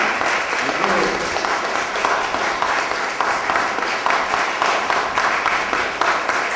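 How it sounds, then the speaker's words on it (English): Enthusiastic audience applause after a poetry panel reading, dense and continuous clapping at fairly close range with a faint voice or cheer mixed in near the start. "let's give again a cheer for Myriam and Ruth"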